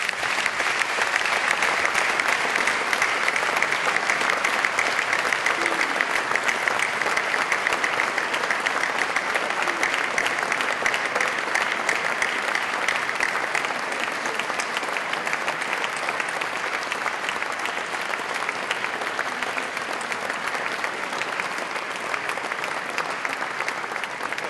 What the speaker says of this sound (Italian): In segno di gratitudine gli indirizziamo un affettuoso e storico applauso.